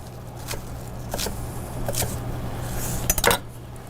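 A knife roughly slices through a stack of leaves on a cutting board, a few sharp, scattered cuts followed by a quick burst of chops near the end, close and fairly quiet.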